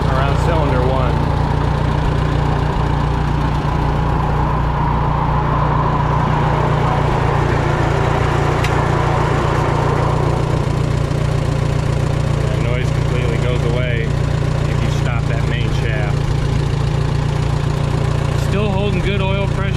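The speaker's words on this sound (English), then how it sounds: "I hear a ticking sound, but I can't quite narrow it down." The 1949 J.I. Case LA tractor engine idles loud and steady with a possible small exhaust leak near the front cylinder, its deep rumble overlaid by fine ticking while someone speaks throughout.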